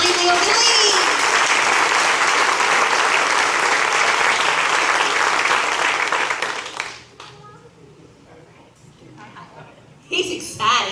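An electric cooperative event crowd applauds a first-place winner, loud sustained clapping with some children's voices for about seven seconds, then it cuts off to quiet room sound and murmurs before a brief burst of noise returns.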